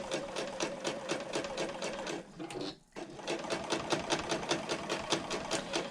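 A sewing machine runs steady, rapid stitching along a handbag seam, a continuous mechanical whir with a brief pause near the middle before resuming at full pace.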